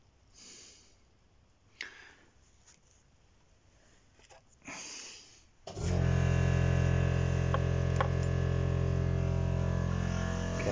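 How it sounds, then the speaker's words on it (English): An air compressor in a workshop suddenly starts up and runs with a loud, steady motor drone after a few quiet seconds of faint handling noises. "I must turn off the compressor here too. Bad timing for that to kick in."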